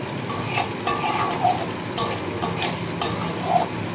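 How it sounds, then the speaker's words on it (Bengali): A spoon stirs spice paste with cashews in a pan over low heat, giving steady scraping strokes and light metallic clinks above a soft frying hiss. "সমানে মশলাটাকে কষিয়ে নেবো যতক্ষণ না মশলাটা সম্পূর্ণ কষানো হচ্ছে"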